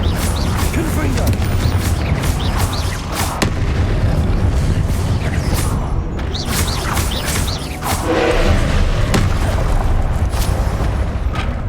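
Repeated Confringo blasting-spell explosions pound away in combat in Hogwarts Legacy, a near-continuous barrage of loud booms and pops with voices mixed in among the blasts.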